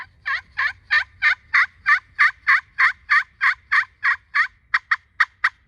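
A steady run of about sixteen turkey yelps on a slate call, evenly spaced, clear and close, with the last few shorter and quicker.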